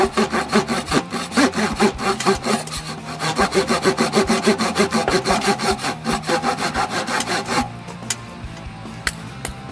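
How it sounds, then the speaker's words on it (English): A wooden 1x4 board being cut with the saw edge of a Crovel Extreme survival shovel, a loud, close, steady back-and-forth rasping of rapid strokes that runs for most of the clip before stopping, followed by a few faint knocks. "Not really that great for sawing wood like that"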